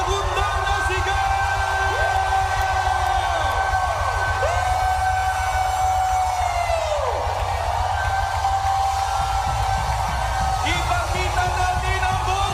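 A large crowd at an election rally shouts and cheers continuously, with long drawn-out rising and falling yells over a dense, loud roar that holds steady throughout.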